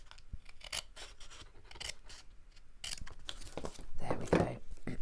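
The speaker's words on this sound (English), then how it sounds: "just trimming that down a little bit, just a few millimetres off of each edge" Scissors snip steadily along paper edges, trimming a few millimetres off each side: a run of close, crisp cuts with faint rustling of the sheet between strokes, quiet and alone.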